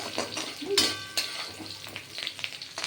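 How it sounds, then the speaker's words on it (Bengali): Two bay leaves dropped into hot oil with panch phoron and green chilies, sizzling briskly while a utensil stirs and clinks against the pan in quick, close strokes. "তেজপাতা দুটো দিয়ে দিলাম"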